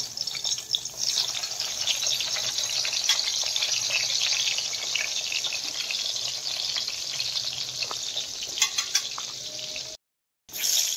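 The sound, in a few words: eggplant frying in a pan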